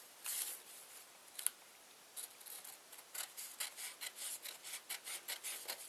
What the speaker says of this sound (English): Now I'm gonna try to cut that fairly straight.